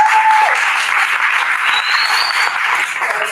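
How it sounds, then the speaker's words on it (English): Audience applause at a panel discussion on queer people in the beer industry, a steady wash of many hands clapping close and loud for the whole stretch, with no talk over it. "I'm gonna give you a clap on that."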